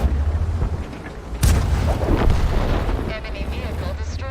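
Tank cannon blast in World of Tanks destroying a T34, a sudden heavy boom with rumbling debris and low engine drone, voices talking throughout.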